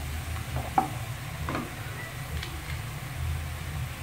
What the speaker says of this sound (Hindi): तो ये प्याज जो है तकरीबन गोल्डन होने वाली है